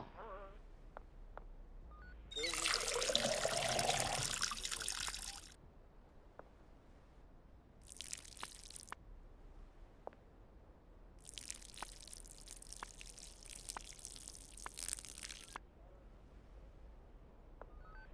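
Water is poured in the video game Schedule 1: a few separate bursts of rushing, splashy liquid sound stand out against a quiet background with faint clicks and drips in between.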